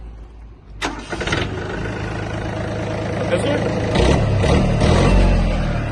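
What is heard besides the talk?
Yanmar mini tractor engine starting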